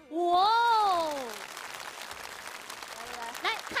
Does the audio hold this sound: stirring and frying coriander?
no